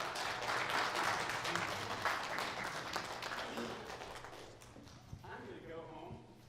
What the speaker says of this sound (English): I'm going to assume that applause was for the awesome job I did